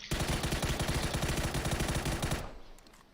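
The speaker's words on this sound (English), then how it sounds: "Shots not connecting from QB though" Rapid automatic gunfire in the battle royale game PUBG, a loud continuous burst of closely spaced shots that stops abruptly near the end, leaving a faint tail.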